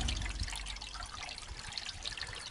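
Grey water from an RV's bathroom-sink holding tank drains in a steady, continuous hissing trickle and splash, close by and fairly quiet, with no talking.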